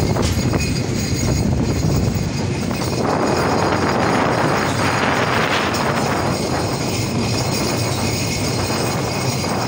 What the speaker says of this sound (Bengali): রূপসা পার্বতীপুর জংশন ইন করলো